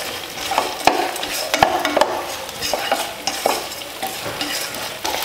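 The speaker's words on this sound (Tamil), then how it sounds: "உருளைக்கிழங்கும் உப்பு போட்டு கலந்து விட்டுக்கலாம்." Potatoes and salt being stirred in a hot frying pan, a steady sizzle with repeated scraping and clinking strokes of the spoon against the pan, close and fairly loud with no talking.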